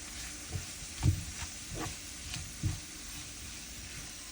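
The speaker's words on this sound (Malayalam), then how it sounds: "ഞാൻ കുറച്ച് തേങ്ങാ ചിരവിയതും കൂടെ ഇട്ട് കൊടുക്കുകയാണേ. എന്നിട്ട് നല്ലപോലെ ഇളക്കി കൊടുക്കുക." Prawns frying in a pan with freshly grated coconut sizzle softly while a spoon stirs them, making intermittent scraping knocks at irregular intervals over the continuous quiet hiss.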